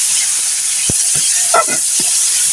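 Boiled potatoes stirred and fried in a pan for a tangy green mango dish, a loud continuous sizzle with a few soft scraping stirs and no talk.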